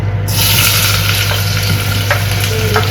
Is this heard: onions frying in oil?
yes